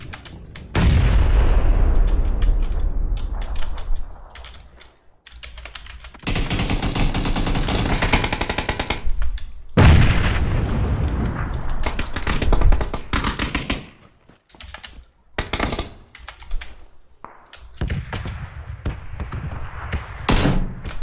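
Heavy video game gunfire erupts in long loud bursts of automatic fire and booming shots, broken by short gaps of near silence, close and intense.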